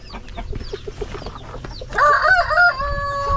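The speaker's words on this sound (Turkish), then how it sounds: "Bunlar Maran cins tavuk." Marans breed chickens at close range, soft clucking at first, then a loud rooster crow rising over the flock, with no voices.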